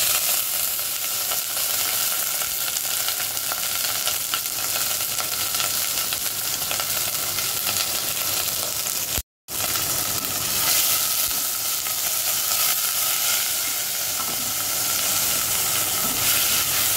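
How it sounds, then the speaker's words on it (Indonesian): Minced meat fries in hot oil in a pan for a fettuccini-with-cheese dish, a loud, steady, dense sizzle and hiss that runs throughout with one brief cut-out midway and no voices. "Kita matangkan dulu daging gilingnya."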